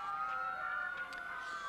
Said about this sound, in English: I'm beginning to hear the sirens